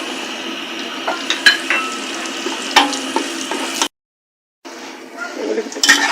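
Onions and raisins for polau frying in a pan make a close, continuous sizzle broken by stirring scrapes and clinks, with a brief silent gap partway through.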